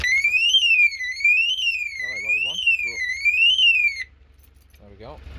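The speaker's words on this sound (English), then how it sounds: "It's a pretty loud alarm." A car alarm on a car with a dead battery wails loudly nearby with a rising and falling siren tone for about four seconds, then stops; brief voices are heard over it and after it ends.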